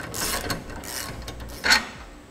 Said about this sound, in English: we're going to need a 21 millimeter socket and wrench